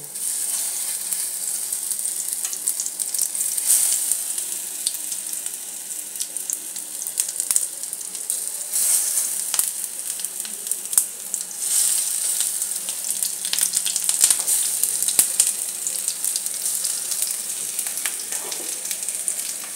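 Dal-stuffed potol, a second batch, fries in a pan over low gas, giving a soft continuous sizzle with faint crackles and occasional clinks, fairly quiet throughout.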